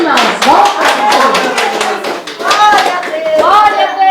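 A church congregation at a Thursday prayer meeting claps in scattered, lively bursts to welcome a preacher, while voices speak and call out over the applause.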